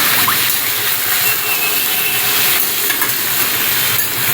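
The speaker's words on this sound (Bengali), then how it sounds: "আলু কুমড়োটাকে একটু ভাজা ভাজা করে নিচ্ছি।" Diced potato and pumpkin frying in oil in a pan, a steady soft sizzle and hiss running throughout with no talk.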